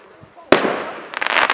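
Fireworks bang close at an autumn display: a sharp burst, then a crackling rumble and a run of rapid popping crackles, with voices faint in the background.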